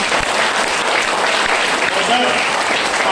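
An audience at a motivational speech breaks into loud, sustained applause, a dense wall of clapping that holds steady without pause and with no speech over it.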